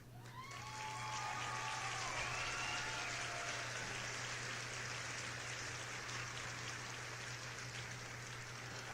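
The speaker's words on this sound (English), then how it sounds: "Round of applause for that one." Audience applause fills a studio show, a steady dense wash of clapping from a crowd, fairly loud and sustained throughout, with a low steady hum underneath.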